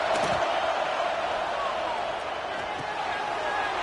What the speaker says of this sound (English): The Tide crowd rolling noise down onto Saban Field on 3rd down.